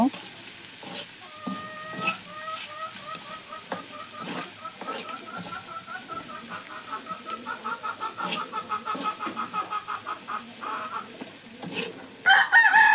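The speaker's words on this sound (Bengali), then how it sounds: "ভালোভাবে নেড়ে চেড়ে মিশিয়ে নেব।" Prawns stirred in a hot pan with turmeric and chili powder give a continuous sizzle and rhythmic spatula scraping, while a rooster crows in the background and a few sharp clatters come near the end.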